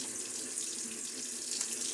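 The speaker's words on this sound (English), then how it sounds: "This time I will splash some water on my face." Water running from a tap into a sink while splashing the face during a shave, a quiet, steady hiss with light splashy bursts and no talk.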